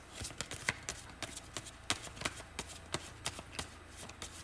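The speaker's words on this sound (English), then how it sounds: "while I'm shuffling" Tarot cards are shuffled by hand in a quick run of sharp, papery riffle clicks, close and fairly regular, with no voice over them.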